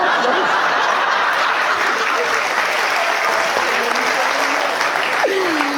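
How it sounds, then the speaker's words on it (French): Audience at a stand-up comedy show applauds loudly to vote, a dense, continuous wash of clapping with some chuckles and a voice cutting in near the end. "Par applaudissement"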